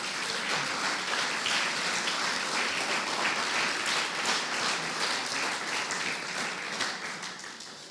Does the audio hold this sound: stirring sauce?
no